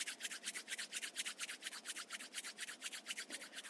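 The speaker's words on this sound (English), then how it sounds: "Rub your palms together again." Palms rubbed briskly together during a seated Ashtanga yoga sequence, a close, steady swishing friction repeated in an even rhythm of about five strokes per second, with no voices.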